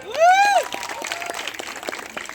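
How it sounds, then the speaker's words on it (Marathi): Wedding guests clap together in a hall: a brief rising vocal tone opens, then a dense, steady patter of many hands carries on at moderate loudness to the end. "जरा जोरदार टाळ्या वाजवा"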